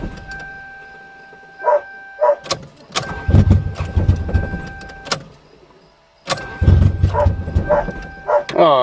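A Toyota GTS that is out of gas cranks repeatedly without catching: two long bursts of whirring starter churn, separated by a pause, with a steady warning chime tone and a few short clunks around them.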